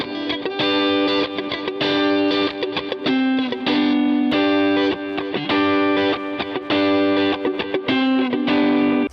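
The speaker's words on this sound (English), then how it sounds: "Moving on to crunch tones, the difference between the pickups is much less pronounced." Electric guitar with a crunchy, mildly overdriven tone, played through Fender Fat 60s Strat pickups or stock Squier Strat pickups, strumming loud chords and riffs in a steady rhythm, upfront with no talking.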